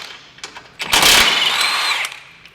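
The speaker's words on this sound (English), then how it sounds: "First thing we're going to do is pop these bolts out right here." A power tool whirs briefly while removing bolts from the steering bracket of a 1990-98 Subaru Sambar, with a couple of short blips and then a loud, steady high-pitched run of about a second before it stops.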